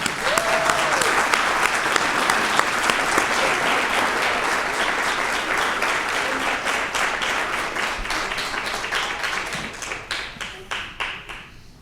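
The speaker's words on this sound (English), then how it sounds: "Please give us a round of applause." A recognition dinner audience applauds in a loud, sustained wash of clapping that holds steady for about ten seconds before thinning into scattered individual claps at the end.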